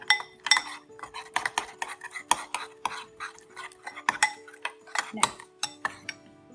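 A spoon stirs Chex mix with Worcestershire sauce, giving a steady run of close, crisp clinks and scrapes against the dish, about a dozen sharp strokes in a loose rhythm with no talk.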